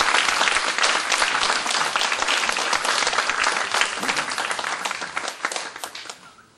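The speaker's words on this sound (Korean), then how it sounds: "목사님 등단하실 때 우리 큰 힘찬 박수로 환영해 주시면 감사하겠습니다." A church congregation gives a strong round of applause, dense clapping that stays full for several seconds and then thins out and fades at the end.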